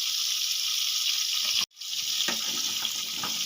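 Mixed winter vegetables cooking in a pan over a low gas flame with a little salt: a steady hiss with a brief break and faint stirring clicks, no talk.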